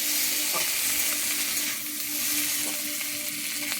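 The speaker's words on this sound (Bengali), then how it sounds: "টমাটোটা কুচিয়ে নিয়েছি আমি টমাটোটা এবারে ভেজে নেবো" Chopped tomato fries in a pan for a fish and potato curry, giving a continuous close sizzle with faint stirring ticks and no talking.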